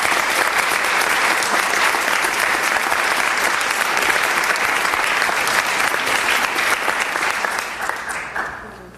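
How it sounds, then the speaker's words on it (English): Crowd at a governor's bill signing on gun laws giving a big round of applause, loud sustained clapping from many people that holds steady, then fades out near the end. "So let's have a big round of applause for everybody that has been a part of this."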